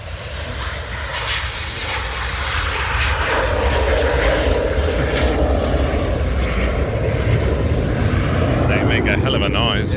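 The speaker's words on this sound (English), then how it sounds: "It's Ryanair 737." A Ryanair Boeing 737 jet passes overhead, its engine roar swelling loud and steady for several seconds with a broad whining rush, heard from the ground at a plane-spotting spot.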